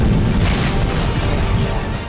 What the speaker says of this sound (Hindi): देखिए कैसे एक के बाद एक धमाके हो रहे हैं